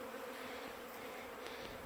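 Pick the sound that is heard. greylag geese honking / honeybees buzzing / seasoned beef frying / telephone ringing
honeybees buzzing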